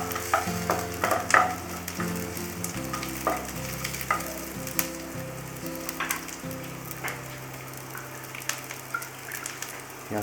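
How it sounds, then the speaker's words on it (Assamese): Onions frying in a pan with mustard seeds for an Assamese fish curry, a steady sizzle with scattered crackles and stirring clatter throughout, no talking. "পিঁয়াজখিনিও ভজা হৈছে"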